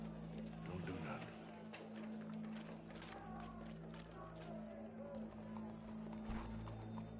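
Rhythmic horse hoofbeats in Red Dead Redemption 2 clip-clop at a steady pace beneath ongoing speech and background noise, with a brief whinny-like sound early on.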